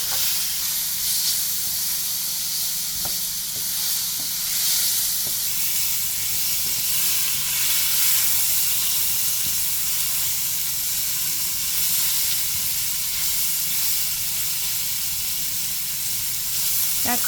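Onions and tomatoes hiss and sizzle steadily in a cooking fish curry, a long, even, close wash of frying noise with a few faint clicks and no voices.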